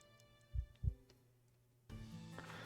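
A heartbeat effect in the video game Stepper Case gives two deep, close thumps in a quick lub-dub pair, followed by a sustained humming musical tone.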